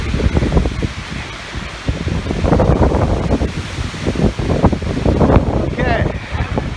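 Wind buffeting the microphone in rough gusts, with rustling and low rumbling bursts, close and loud, with voices speaking underneath.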